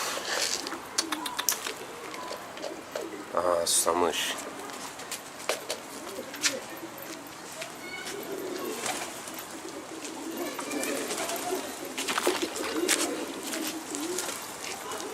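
Hungry pigeons coo in a loft while escaped pigeons are being caught, soft repeated coos and wing flutters mixing with rustling, and someone speaks briefly over them.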